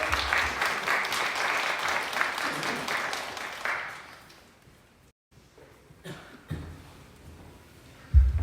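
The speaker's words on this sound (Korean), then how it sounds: "우리 하나님께 영광과 감사의 박수 올려드립니다." Church congregation applauds after a closing prayer, a dense broadband clapping that swells for about four seconds, then fades into near silence before scattered claps and a brief renewed burst at the end.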